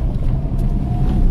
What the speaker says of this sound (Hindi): तो गाड़ी के अंदर थोड़ी बहुत आवाज आ रही है, बाहर की ज्यादा नहीं आ रही